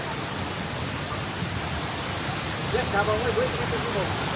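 Strong floodwater rushing past a roadside in Barangay Bantac, Magpet, Cotabato, a steady broadband roar that holds throughout, with a brief faint voice surfacing near the end.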